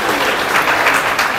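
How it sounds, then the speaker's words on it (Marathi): A crowd at a political party workers' rally gives loud, dense applause welcoming the dignitaries on stage, a brief, continuous burst of clapping close to the microphone. "मंचावरती उपस्थित असलेल्या सर्व मान्यवरांचं आपण जरा पुन्हा एकदा जोरदार टाळ्या वाजवून आपण या ठिकाणी स्वागत करूया"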